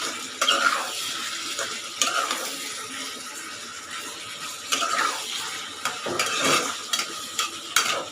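Shrimp frying in a pan for a Bangladeshi dish with chalkumra (ash gourd), stirred steadily: a continuous sizzle with repeated scraping and stirring clatters throughout, no talking.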